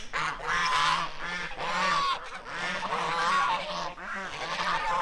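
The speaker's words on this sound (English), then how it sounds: "The geese are starting." A flock of geese honks loudly and continuously, overlapping calls filling the whole stretch with a raucous, nearby chorus.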